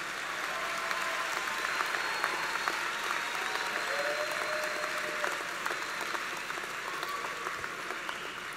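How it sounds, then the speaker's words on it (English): Graduates and guests at a university commencement ceremony applaud steadily, a sustained wash of many hands clapping in a large hall, with a faint crowd murmur beneath. "will the graduates please rise and give a round of applause in appreciation of those that supported you through the educational process"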